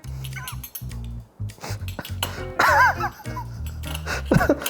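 Two spoons clink against a dish during a meal of a homemade animated-food recreation, giving a few light, sharp taps among laughter and talk, with a high-pitched squeal partway through.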